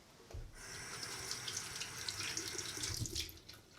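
Tap water runs steadily into a sink nearby, with splashing and dribbling as hands scoop it up to wet a face, fairly soft and without talk.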